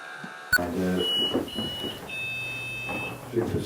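An electronic device in a haunted manor chimes a short melody of several clear, steady tones of different pitches, moderately quiet, with a brief thump at the start and faint background noise.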